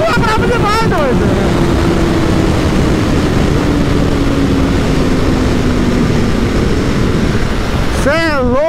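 A 2021 BMW S1000RR motorcycle accelerating hard at full throttle, with a steady, loud engine roar and wind rush, rising revs at the start and again near the end.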